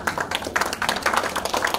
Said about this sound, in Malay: Kita berikan tepukan kepada sana dan juga tepukan kepada B5